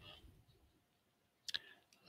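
A computer mouse gives a couple of quick, faint clicks close by in a quiet room.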